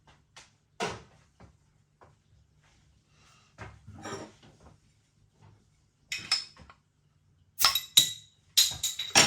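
A lager bottle is opened and handled with a glass: scattered soft knocks and thuds, then a run of sharp, bright clinks and clatter close by toward the end, with no speech.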